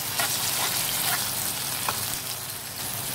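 Tomatoes added to onions frying in oil in a home kitchen pan, giving a steady, moderately close sizzle with faint crackles and occasional small pops, with no talk.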